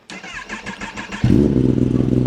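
A motorcycle engine cranks with a rapid whirring starter for about a second, then catches and settles into a loud, steady close idle.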